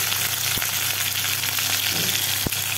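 Potatoes fry in a pan over lowered heat, giving a steady close sizzle with a couple of sharp pops and crackles and no talk.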